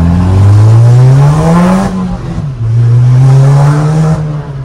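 Loud, close revving of a Volkswagen Golf 5 GTI fitted with a stainless steel downpipe, with two long rising pulls separated by a brief dip as the throttle drops. No voices are heard over the engine.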